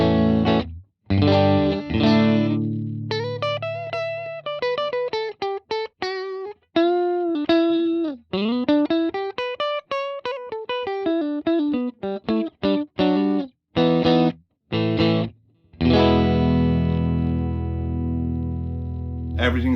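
A Harley Benton ST-Modern HSS electric guitar on its neck and middle pickups plays dry with no effects, a melodic single-note line with clear sustained notes and short pauses, closing on strummed chords.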